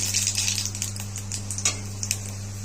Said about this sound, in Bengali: আমি একটা লঙ্কা ফোড়ন দিয়েছি হচ্ছে রাঁধুনি ফোড়ন দিলাম